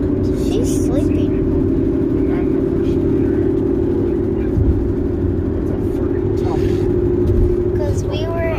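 A steady low engine drone and road rumble fill the inside of a moving car, constant and fairly loud throughout.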